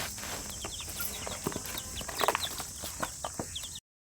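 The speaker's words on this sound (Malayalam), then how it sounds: "ഇതാണ് ഞങ്ങൾ വാങ്ങിയ കളർ കോഴിക്കുഞ്ഞുങ്ങളാണ്" Coloured chicks grown into young roosters cluck and chirp in short, scattered calls at a farmyard in the morning, moderately close, with a steady high insect-like hiss behind and no talking.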